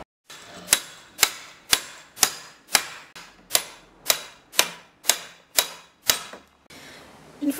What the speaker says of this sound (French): vous allez taper avec votre marteau sur le ciseau à briques